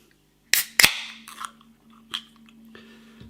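A can of Stewart Brewing Choc 'O' Clock chocolate stout cracks open with two sharp pops and a fizzing hiss, followed by a couple of softer clicks and faint handling sounds in a quiet room.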